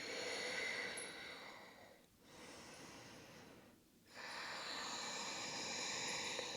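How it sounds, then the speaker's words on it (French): Slow, deep breathing during a bedtime yoga flow: two long, steady breaths in and out with brief pauses between them, close and soft, with no talking. "Et on prend de grandes respirations."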